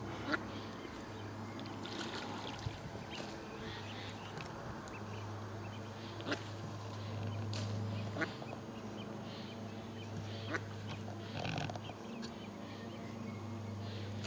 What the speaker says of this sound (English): You fishing or feeding the ducks, Luke?